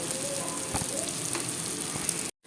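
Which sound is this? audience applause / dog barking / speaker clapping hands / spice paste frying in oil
spice paste frying in oil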